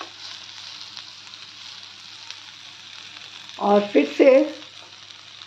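Bhindi jhaga cooks on a low flame, giving a faint steady sizzle under the scene. Someone speaks briefly near the end.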